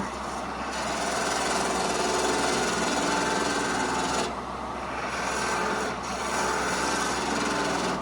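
A wood lathe spins a lidded canister blank while a half-inch pointed gouge cuts it, a steady loud whirring hum with brief dips where the tool lifts off, close and without talk.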